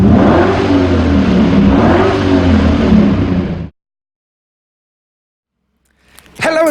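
A 2.2-litre diesel engine in an Alfa Romeo Giulia Speciale revs loudly and close for several seconds, its pitch rising and falling, then cuts to silence before a brief sharp clatter at the end.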